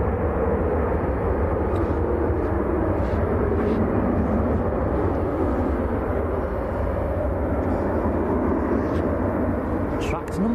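An airliner rolls off the runway after landing at Manchester Airport, giving a steady, loud engine roar that holds evenly throughout, with faint talk in the background.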